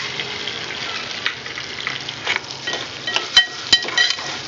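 Popcorn kernels fry in melted butter and oil for caramel popcorn, producing a steady close sizzle broken by a few sharp clinks and scrapes of stirring, with no talk.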